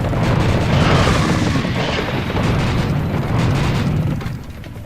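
Heavy, continuous explosions rumbling in Serious Sam HD, loud deep booms rolling into one another for several seconds before easing off slightly at the end.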